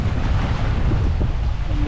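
Gusty wind blowing hard along a seashore, a loud unbroken rushing roar with low buffeting, close and without talk.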